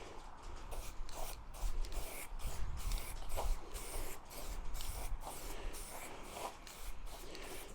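A spray gun lays a light dust coat of paint onto a 1/6 scale Armortek M26 Pershing RC tank, hissing steadily in pulsing bursts with short gaps, close and continuous.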